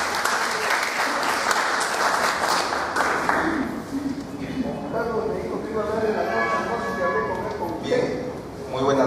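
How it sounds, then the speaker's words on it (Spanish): An audience at an evening lecture presentation breaks into applause, a steady, moderately loud wash of clapping that swells and lingers for several seconds, with voices mixed in. "Un aplauso para Miguel Sea Alayo."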